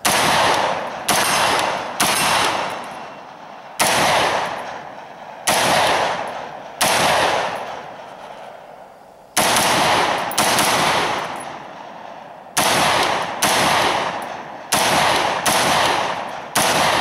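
Bushmaster rifle with a dissipator upper firing Federal XM-183 ball ammunition outdoors, heard as loud sharp shots in quick bursts and singles, about a dozen reports over the stretch with short gaps between them.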